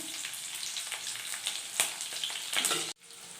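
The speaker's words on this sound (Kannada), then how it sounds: "ಆಮೇಲೆ ಫ್ರೈ ಮಾಡ್ಕೊಳ್ಳಿ ನೀಟಾಗಿ." Curry leaves and onion fry in hot oil in a pan for methi dal, giving a steady close sizzle with a few sharper crackles and a brief scrape near the end. No one speaks.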